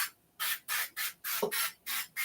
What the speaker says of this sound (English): So before I do that, let me spray my pan